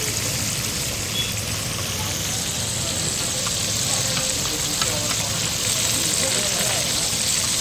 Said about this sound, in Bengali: পমফ্রেট ভাজা আছে, পমফ্রেট।